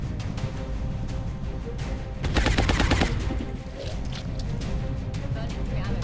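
A short rapid burst of automatic gunfire in the turn-based video game XCOM Long War, played on Impossible Ironman, rising over a dense, steady game soundscape.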